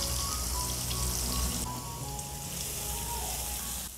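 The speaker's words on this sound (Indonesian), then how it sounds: "Kemudian kita tumis bumbu yang sudah kita haluskan." Ground spice paste for Indonesian chicken satay basting sauce sautéing in hot oil, a steady dense sizzle and crackle that runs throughout, slightly easing after the first half.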